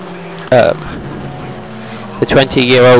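Race cars at Brands Hatch, including a 20-year-old Van Diemen, roar past in two loud bursts over a steady engine drone, with a commentator talking throughout.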